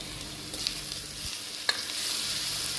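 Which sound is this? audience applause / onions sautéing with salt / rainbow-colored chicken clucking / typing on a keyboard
onions sautéing with salt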